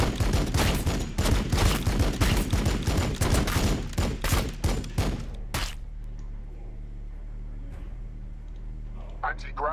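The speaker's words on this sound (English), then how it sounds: "Firing on the enemy!" Gunfire in the Warhammer 40,000: Battlesector video game: loud, rapid volleys and bursts crackle for about six seconds, then give way to a quieter, rumbling ambience with faint sounds near the end.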